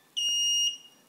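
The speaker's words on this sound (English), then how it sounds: "Beeper alarm." Two-tone electronic beeper alarm from a Walkera Devo 7 RC transmitter and Furious 215 receiver after power-off: a single loud, steady high-pitched tone lasting about half a second, then cutting off, heard alone with no talk.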